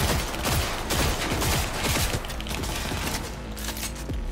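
Rapid bursts of gunfire in a Cyberpunk 2077 firefight, loud and close, with sharp repeated shots in quick clusters over a busy combat din, no voices.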